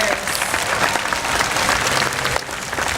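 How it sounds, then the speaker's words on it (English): Loud, dense audience applause fills a SeaWorld San Diego killer whale show arena, steady clapping from a large crowd for a few seconds with little talk. "how about a round of applause for our great volunteers?"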